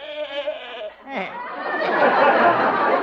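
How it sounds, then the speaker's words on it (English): A goat bleats in a radio comedy sound effect, a wavering nasal cry lasting about a second, followed by studio audience laughter rising beneath. "And then there's Arthur, my goat."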